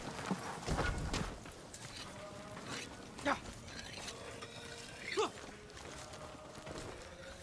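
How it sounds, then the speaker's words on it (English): A horse in the video game Ghost of Tsushima snorts and whinnies softly a few times amid quiet hoof movement and ambient game sound, with a voice speaking briefly over it. "That's not my horse, is it?"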